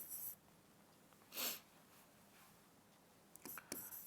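A marker scrapes across a classroom board in three short strokes, one at the start, one in the middle and a quick pair near the end, faint and close in an otherwise quiet room.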